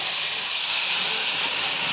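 Tamarind water hitting a hot pan produces a loud, continuous hissing sizzle that holds steady throughout.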